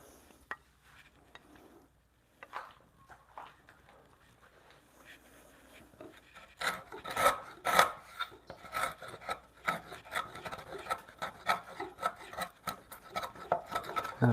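A framing chisel is pushed through a wooden bunk bed rail. After quiet scattered taps, dense scraping and rasping builds up in irregular bursts that grow louder and busier toward the end.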